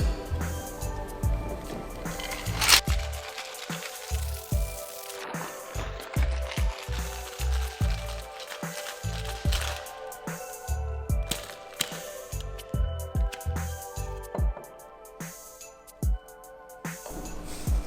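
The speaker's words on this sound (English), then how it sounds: "Now we're gonna use fresh ice cubes from the freezer, so we don't want to dilute the drink so much. And we are ready to shake it." A winter cocktail being shaken hard with fresh ice cubes from the freezer, producing a steady, rapid rattling rhythm that carries on for many seconds with no talking.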